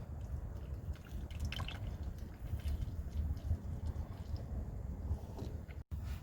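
Engine oil runs steadily out of a car's open drain plug during a home oil change, a continuous close trickle and patter into a pan with faint dripping on top.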